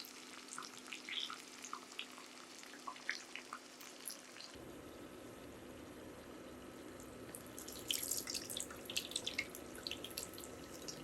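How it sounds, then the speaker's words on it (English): Chicken crackles and sizzles in a hot pan, a steady frying hiss with scattered pops that grows busier toward the end. "Now, here's some sexy frying sounds for you."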